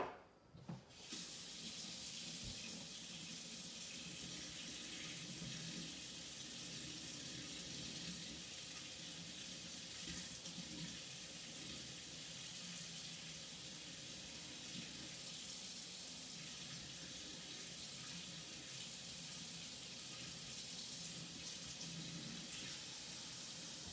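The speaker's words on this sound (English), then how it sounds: "So I'm just gonna put my sink on to hot" A kitchen sink tap runs hot water in a steady, continuous hiss and splash that carries on unbroken at an even level, with no talking over it.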